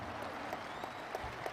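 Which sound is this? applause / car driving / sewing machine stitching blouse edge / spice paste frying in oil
applause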